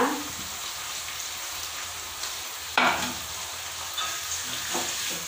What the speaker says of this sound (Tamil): கருவேப்பிலையை போட்டு வதக்கிட்டு காய்கறி நம்ம போட்டுக்கலாம் வாழைப்பூ எடுத்து வச்சோம்ல அதை எல்லாத்தையும் போட்டுருவேன்